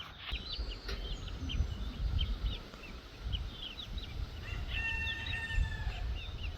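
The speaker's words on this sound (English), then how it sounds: "I got one of my chickens, Pants, raising up her 8 babies out here" A mother hen clucks and her eight small chicks peep repeatedly at a moderate distance in a backyard, over low outdoor rumble, with scattered high chirps throughout.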